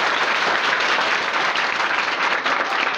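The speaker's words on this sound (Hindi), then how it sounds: "तो ताली तो कम से कम बनती है भाई" Dense audience applause from students at a coaching centre event, a continuous even roar of many hands clapping at steady loud level throughout, with no talk over it.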